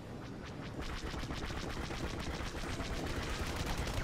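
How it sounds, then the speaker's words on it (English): Rapid cannon fire from a starfighter in Star Wars Battlefront 2 multiplayer: a fast, even stream of sharp repeated blasts over a constant engine roar, fairly quiet and continuous with no speech. "Oh, that's a cannon."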